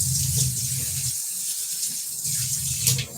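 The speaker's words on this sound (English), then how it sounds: "now I'm washing the kale" Tap water runs steadily into a kitchen sink while kale is being washed under it, a continuous close splashing hiss with slight changes as the leaves move through the stream.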